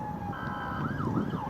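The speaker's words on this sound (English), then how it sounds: "That siren that just drove past speaks about authority and protection" Emergency vehicle siren driving past, a loud wailing tone sweeping up and down over steady traffic rumble, fairly close and alone with no voices.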